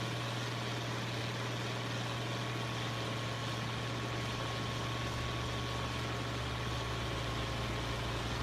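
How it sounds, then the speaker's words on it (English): A Case tractor engine in Farming Simulator 25 hums at a steady low idle, a constant droning rumble with a fixed low tone and no variation, heard alone without talk. "That case need a real engine sound?"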